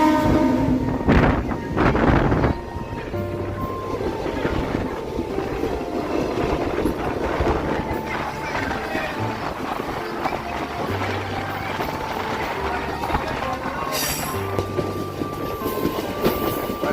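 The Rampurhat–Sealdah Maa Tara Express runs along with a continuous rumble and rattle of carriages and rhythmic wheel clatter, a horn sounding in the distance and a sharp hiss near the end.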